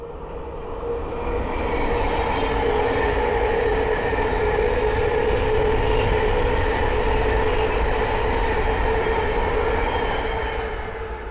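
A Class 700 electric passenger train on the Midland Main Line passes close by in a sustained rolling roar with a steady whining tone, rising in over the first seconds and tailing off at the end, with no talking.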